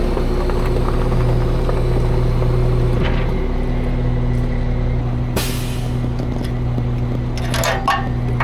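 A semi truck's air suspension bags being dumped, with a sharp burst of released air, under a steady idling diesel rumble from inside the cab, plus a few smaller air hisses and clicks afterward.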